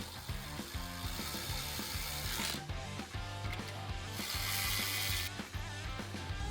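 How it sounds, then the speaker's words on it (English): A ratchet wrench with a 10mm socket tightens brackets onto a 2024 Tesla Cybertruck crash beam, giving quick clicking pawl sounds in short runs that sit quietly under a faint musical backing. "Using a 10mm socket, secure the left and right bracket onto the crash beam for the latch release housing."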